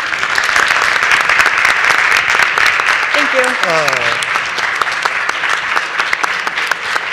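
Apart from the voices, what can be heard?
audience applause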